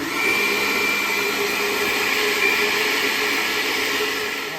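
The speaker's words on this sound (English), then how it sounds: "Then we will blend it some more on medium." A blender whirs steadily at a constant medium pitch while blending crêpe batter, a loud continuous motor drone with no pauses or talk.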